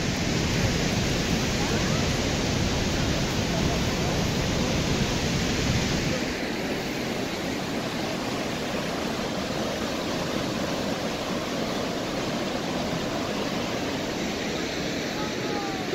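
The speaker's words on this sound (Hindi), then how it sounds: "मेन पॉइंट जहाँ से पानी गिरता है, हॉर्स शू की शेप में आबशार बनती है।" The Horseshoe Falls of Niagara Falls roaring as a dense, constant wash of falling water, loud and unbroken, with the low roar thinning slightly partway through.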